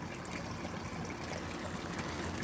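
Water trickles steadily from a small waterfall in a garden pond stocked with shrimp and fish fry, a soft continuous splashing wash close by with no talk over it.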